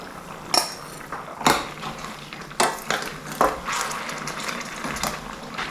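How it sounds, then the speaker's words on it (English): Tomatoes tipped into a pot of mutton curry simmering on medium heat, heard as several sharp clinks and knocks of utensil against pot spaced a second or so apart over a soft background hiss, close and moderately loud. "Now we are going to add tomatoes."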